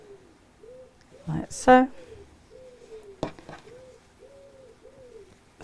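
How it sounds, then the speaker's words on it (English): Pigeons coo outside in soft repeated low, rounded calls, faint in the background, while a person speaks briefly nearby during sewing. "Now you can hear the pigeons"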